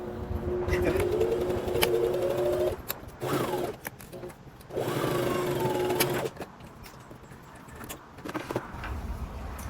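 A sewing machine stitches a facing on a Butterick 6296 pajama set, its motor whirring in three sustained runs separated by short pauses, close and fairly loud.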